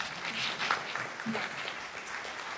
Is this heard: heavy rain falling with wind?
no